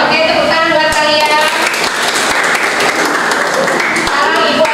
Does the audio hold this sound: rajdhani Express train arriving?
no